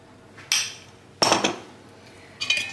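Baking soda being stirred into a mixture for a fluffy butter-and-cheese tutmanik: three separate bursts of clinking utensil against a bowl, each scraping briefly before falling quiet, close and moderately loud.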